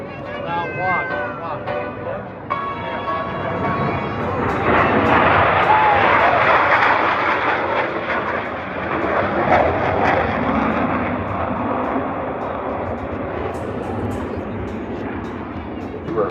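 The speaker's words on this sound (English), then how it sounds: "roll their aircraft at 90 degrees angle bank and push forward on the stick as they perform the opposing knife edge pass" Blue Angels jets fly an opposing knife-edge pass at an air show at Seymour Johnson Air Force Base, a loud, sustained jet roar that swells and lingers while an announcer talks over it.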